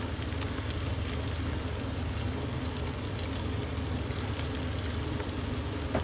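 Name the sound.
sautéing ginger-garlic and mint in a pan for chicken biryani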